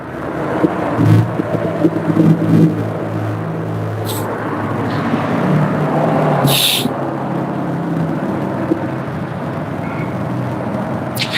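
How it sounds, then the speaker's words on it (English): Constant low road traffic rumble with a steady broadband hiss, a few brief higher whooshes passing through, no voices. "How's the traffic noise out here, y'all?"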